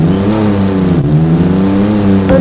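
A Porsche 911 GT3 RS engine in a driving simulator game revs at full throttle, a loud, steady high-pitched howl that dips briefly as it shifts and then climbs again, with no talking.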